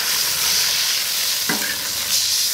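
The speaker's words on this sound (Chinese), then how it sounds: "下锅一起炒香。 哦，还有花椒，再加一点花椒" Chili and Sichuan pepper stir-fry in a hot wok with a steady, loud sizzle and a brief scrape of a spatula partway through, with no voices.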